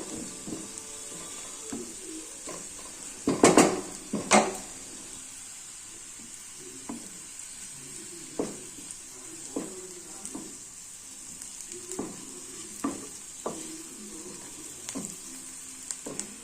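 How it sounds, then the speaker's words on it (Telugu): Onions cook on a low flame in a pan with a steady soft sizzle, broken by a few louder clattering stirs early on and scattered light scrapes and taps of a spoon throughout. "లో ఫ్లేమ్ పెట్టేసుకుంటాను మనం అన్ని పనులు చేసుకునే వరకు ఇక్కడ ఉల్లిగడ్డ ఉడుకుతుంది"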